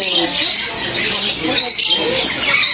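Dense, continuous squawking and chirping from many caged birds at Yuen Po Street Bird Garden, a Hong Kong bird market, loud and close, with a voice talking faintly underneath.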